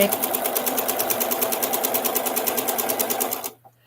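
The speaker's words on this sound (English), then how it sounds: "these are already ready to go right in the sewing machine and chain piece. So that is what I am going to do right now" A sewing machine chain pieces half-square triangle quilt blocks, running in a steady, rapid stitching rhythm close up for about three and a half seconds before stopping abruptly.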